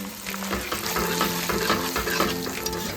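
Fried vegetables stirred into a pot of dal on the stove, a steady close sizzle and frying hiss with soft scraping stir strokes throughout, no talking.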